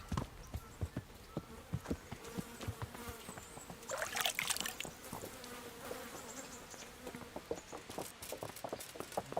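Horse hooves clop in a steady rhythm at moderate distance in the video game Kingdom Come: Deliverance, with a buzzing insect-like drone and faint background ambience throughout.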